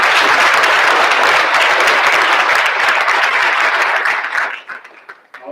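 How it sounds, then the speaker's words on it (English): A county event audience breaks into loud, sustained applause, dense clapping from many hands that holds steady for several seconds before quickly thinning out and fading at the end. "Please give a round of applause for our communications team"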